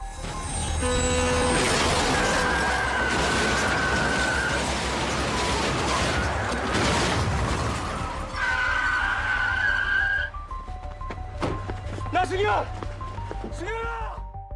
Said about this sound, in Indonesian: mobil mereka justru ditabrak truk dari samping hingga terbalik